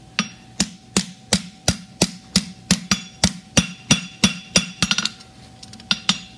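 Blacksmith's forging hammer striking hot steel on an anvil while shaping a horseshoe with a cap toe and extended heel: a close, steady run of about seventeen sharp ringing blows at an even rhythm, with no talk.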